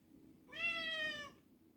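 A house cat gives a single clear meow of under a second, quiet and close, against a near-silent room with no talking.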